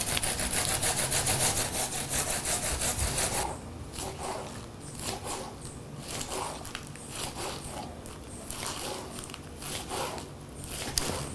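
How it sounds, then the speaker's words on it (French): Coarse, scratchy sawing strokes of a knife cutting through a spiny lobster shell, loud and dense at first, then slower, uneven rasping cuts close by, with no voices. "Je réserve et je vais découper ma langouste."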